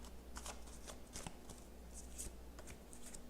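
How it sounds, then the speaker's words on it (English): Tarot cards are shuffled by hand, a soft, quiet run of riffling and flicking bursts in uneven rhythm, close and faint over a low steady hum, with no speech. "We're going to shuffle."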